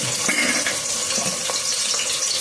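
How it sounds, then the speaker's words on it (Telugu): Sliced onions and green chillies dropped into hot oil for a brinjal, potato and beef curry give off a continuous bright, crackling hiss of frying, close and steady throughout. "ఆయిల్ అయితే కాగిందండి. ఉల్లిపాయలు వేస్తున్నాను."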